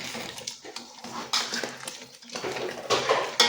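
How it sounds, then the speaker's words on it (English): A spoon stirring Nigerian okra soup in a pot makes irregular clinks and scrapes against the metal with soft wet sloshing, close and fairly quiet, with no voices. "And I'll give it a good stir."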